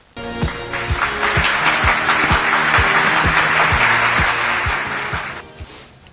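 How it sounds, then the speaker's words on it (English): Audience applause for a reporter introduced on a student program, a steady broadband clapping wash lasting about five seconds under a regular low thumping beat of music, then fading out. "A big applause for Alicia."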